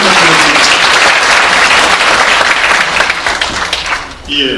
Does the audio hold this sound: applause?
yes